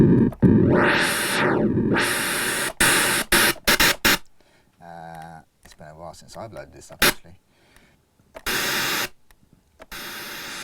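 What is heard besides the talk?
synthesizer white noise oscillator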